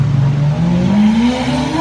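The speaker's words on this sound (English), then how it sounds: "Lamborghini going fast in a parking lot" Lamborghini accelerating hard across a parking lot, a loud close engine roar rising steadily in pitch as it revs up, with no talk over it.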